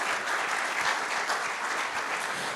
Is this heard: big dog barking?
no